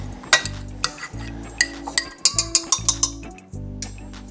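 Ube yam scooped into a mixing bowl with brown sugar for baked ube donuts, heard as a series of sharp utensil clinks and taps against the bowl over soft background music.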